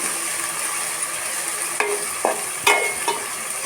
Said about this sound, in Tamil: இஞ்சி, பச்சை மிளகாய் வதக்கின பிறகு கட் பண்ணி வச்சுருந்த தக்காளியை போட்டு நல்லா வதக்கிக்கோங்க